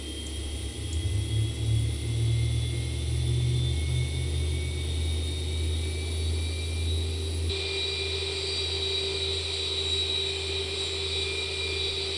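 Boeing 737-800 left engine spooling up in a flight simulator cockpit, a steady loud whine and low rumble that shifts pitch partway through, continuous with no talk.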